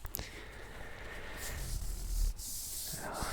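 Fingertips trace slowly across a fairly hard book cover, giving a soft, close, continuous rubbing and scratching texture at a quiet level with no talking.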